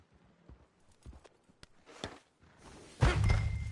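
In a Red Dead Redemption II game scene, scattered horse hoof thuds and clops sound at a moderate distance before a louder rushing, scuffling burst near the end.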